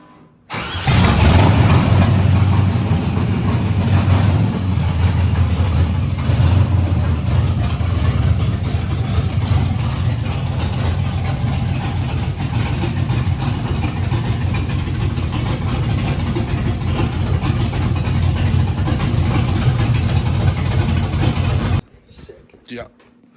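A Nissan D21 Hardbody pickup with a swapped-in LS V8 starts up and runs loudly at a steady, rough idle for about twenty seconds, then cuts off abruptly; voices are heard faintly around it.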